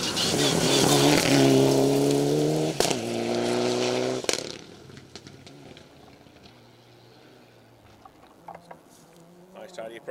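A Mitsubishi Evo 9 rally car on a forest stage of a Welsh rally roars loud and close with high revving and gear changes, then cuts off abruptly and fades into distant engine noise.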